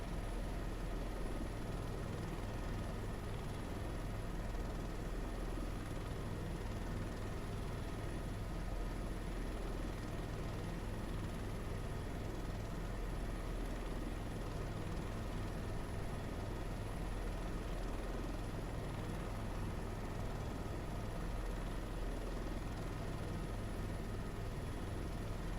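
A helicopter drones steadily in flight in a flight simulator game, a constant dense rotor and engine roar with no break or change in level.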